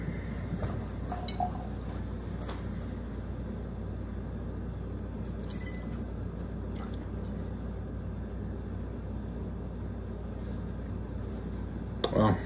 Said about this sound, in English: Let's get these glasses poured out.